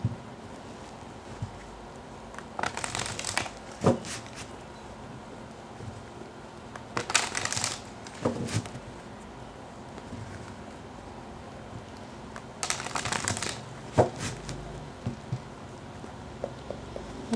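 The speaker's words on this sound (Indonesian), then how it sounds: "terutama ketika aku shuffle kartu ini" Tarot cards are shuffled in three separate bursts of crisp riffling and rustling, each lasting a second or two, against a quiet room background with no talk.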